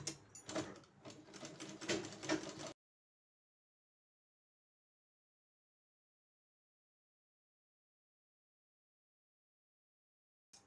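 A sewing machine stitching a long fabric frill strip for a blouse back-neck design runs steadily for about three seconds, then stops into silence, with a brief restart at the very end.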